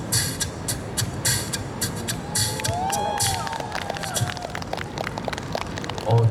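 A crowd cheers, whoops and claps after a beatboxed hi-hat is performed, a lively, sustained burst of audience noise with children's shouts mixed in, fairly loud and close throughout.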